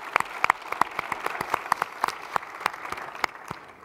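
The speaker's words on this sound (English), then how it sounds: "give them a special round of applause for all their hard work" Audience applause at the SGAC Fusion Forum during the National Space Symposium, made of fairly sparse, distinct hand claps from a modest crowd, steady and moderately quiet throughout.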